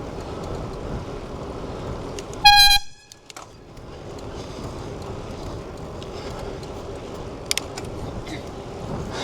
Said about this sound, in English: Thank you, air horn. I love you, air horn.